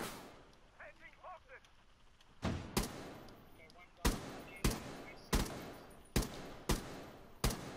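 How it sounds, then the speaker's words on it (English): Video game gunfire in a basement defence match: a string of sharp, loud individual shots at irregular intervals of under a second, with a faint voice talking briefly beforehand. "They're shooting bullets."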